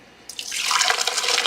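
Tap water starts abruptly and then pours steadily into a sink or bowl while frozen blackberries are rinsed, close and fairly loud.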